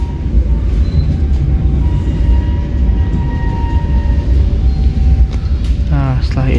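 Siliwangi passenger train running from Sukabumi to Bandung near Lampegan, heard from inside the carriage as a steady, loud rumble with faint tonal whines and a brief squeal near the end.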